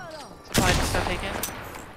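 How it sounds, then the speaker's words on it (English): Gunfire in a battle royale video game: a sudden burst of rapid shots strikes mid-clip and rattles on, with a second sharp crack near the end, while a voice talks faintly over it. "I'm getting shot at"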